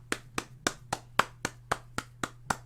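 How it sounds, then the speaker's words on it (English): One person claps alone, about ten sharp, evenly spaced hand claps at a steady medium tempo, close up against a low constant hum. "Let's get a round of applause for that."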